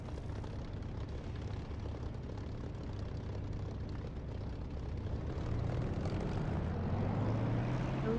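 Simulated aircraft engine throttling up for takeoff in a flight simulator game, a steady close droning rumble that swells louder and heavier partway through.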